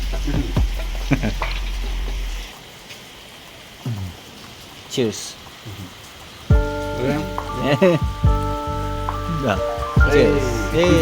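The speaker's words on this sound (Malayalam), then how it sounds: "ഓക്കെ നല്ല മഴയുണ്ട്" Heavy rain pours down in a continuous close hiss, broken by a brief lull, while people talk and laugh over it.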